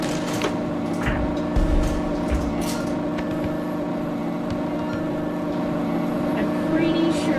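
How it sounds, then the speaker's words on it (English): Overheating truck engine in the VR game Job Simulator, a steady low rumble and hum with faint rattles running throughout at moderate level, while a voice talks over it. "I'm pretty sure my engine's overheating too. It's making all kinds of weird noises."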